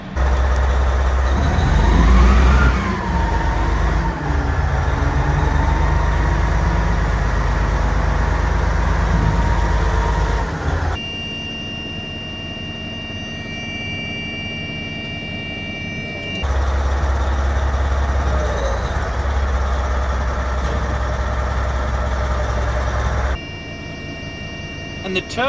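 A 730-horsepower Cat dump truck runs through its turnaround cycle, its loud, heavy engine roaring steadily, with abrupt shifts in tone and a steady beeping, under occasional talk.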